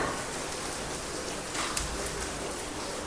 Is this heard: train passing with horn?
no